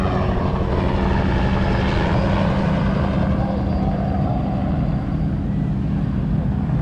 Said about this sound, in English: And here comes a helicopter come flying in.